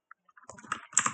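Keys tapped on a computer keyboard while entering a line of text in a Debian 10 terminal, a quick run of soft clicks speeding into a denser burst, close and quiet with no talk.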